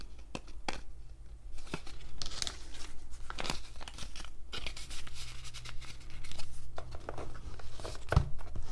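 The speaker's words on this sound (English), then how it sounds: "So I'll go ahead and put it in this envelope." Cash bills rustle and crinkle as they are stuffed into a paper envelope, with repeated close crumpling and tearing-like paper sounds and a sharper crunch near the end.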